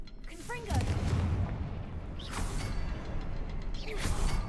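Confringo blasting spell going off in Hogwarts Legacy: several separate whooshing blasts with booming bursts, spaced a second or two apart, over a low continuous rumble at moderate loudness.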